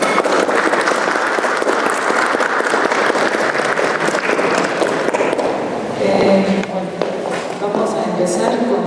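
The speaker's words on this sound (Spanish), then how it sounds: "Un fuerte aplauso, por favor." Loud, dense applause from a seated audience at a family-medicine lecture, steady clapping over the whole stretch with some shuffling and a brief lull near the end.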